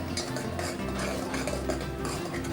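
A metal spoon scrapes and clinks against a pot as green masala paste is stirred and sautéed in a mutton curry, the soft sizzle running steadily beneath the irregular close scrapes, with no voices.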